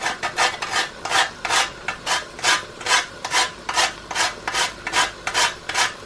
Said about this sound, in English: Now I'm just going to grate some nutmeg.